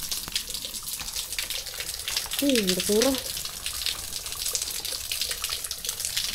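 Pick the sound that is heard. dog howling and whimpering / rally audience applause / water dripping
water dripping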